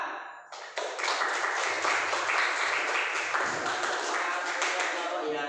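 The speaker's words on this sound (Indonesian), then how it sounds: "kita berikan aplaus untuk kelompok 4" A group of people applauding group 4 in a classroom presentation, a dense, steady burst of clapping that fills the room and carries on for several seconds after a brief spoken lead-in.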